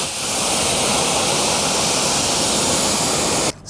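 A pressure washer rinses a car wheel after Koch Chemie wheel cleaner, giving a steady, loud, hissing spray that runs unbroken for several seconds and then stops abruptly near the end. No one speaks.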